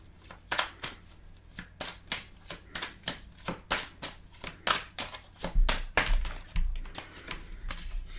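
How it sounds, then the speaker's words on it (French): Tarot cards are shuffled and drawn, giving a run of crisp, rhythmic flicks and slaps close up, steady throughout with a soft low thump near the end. "on va tirer une carte pour voir ce qui ressort"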